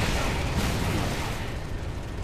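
Rapid machine gun fire from the Halo: Reach video game, dense and continuous bursts mixed with booming impacts, loud and close throughout with no talking.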